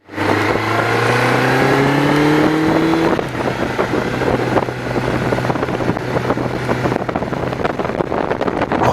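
A Honda CB750 Nighthawk motorcycle is ridden with a rising engine tone that climbs through a gear before easing into a steady drone, with heavy wind buffeting over the microphone.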